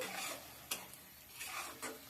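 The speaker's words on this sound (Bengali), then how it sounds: "তো পেঁয়াজটা কিন্তু ভাজতে ভাজতে আমার পেঁয়াজটা মজে গেছে আবারও আমি এটাকে দু মিনিটের মতো ভেজে নেব" Onion frying over medium-low heat in a pan for a chickpea curry, soft sizzling with a few sharp stirring scrapes and clinks of a spatula, quiet and close with no voices.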